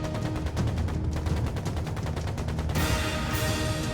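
Gunfire in a Trails into Reverie video game cutscene, a dense sustained barrage of rapid shots under a loud battle mix that shifts and grows brighter partway through, with no clear speech.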